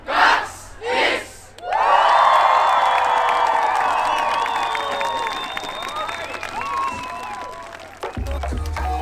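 A large crowd at the 2018 Estonian Idol auditions in Tallinn erupts into loud cheering, shouting and whooping. The roar is sustained and close, briefly preceded by a few voices and fading into quieter murmur near the end.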